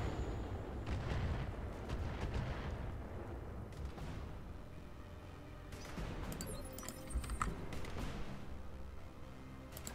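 Mech weapons in the game RogueTech, including medium lasers, fire in a loud, dense barrage of booming, crackling blasts that roll on continuously, with sharper bursts near the end.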